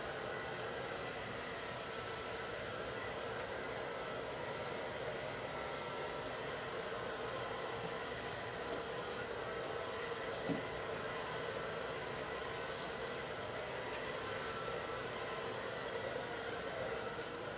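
A handheld hair dryer blows steadily for the whole stretch while a section of hair is dried for a smoothing treatment, a constant close, loud whooshing roar with no talk over it.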